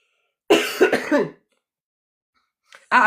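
A single loud cough burst made of several rapid hacks, then silence, with another harsh cough starting at the very end.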